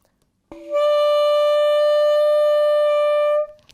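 A single sustained high C on alto saxophone rings out clearly and evenly for about three seconds, then stops, alone with no talking.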